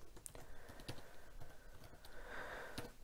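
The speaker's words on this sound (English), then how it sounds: "Let's check now to see what happens if I type in Mr. Simpson" A name is typed on a computer keyboard in a short burst of soft, uneven clicks, faint and close against steady background hiss, with no talk.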